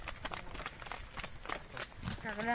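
Bullocks walking along a village road, their hooves clip-clopping in an irregular patter under steady nearby talk, with a voice calling out near the end.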